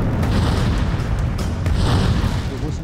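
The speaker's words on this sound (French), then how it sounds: "Il nous était impossible de tirer avec précision devant cet immense barrage d'artillerie qui s'avançait sur nous." An artillery barrage rumbles in continuous heavy low booms and bursts, dense and loud with no clear gap between explosions.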